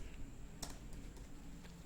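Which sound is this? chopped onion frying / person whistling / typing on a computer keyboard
typing on a computer keyboard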